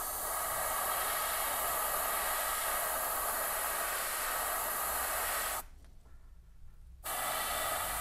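Paint spray gun hissing steadily while spraying a fishing crankbait lure, a close, continuous airy rush with one pause of about a second and a half before it resumes.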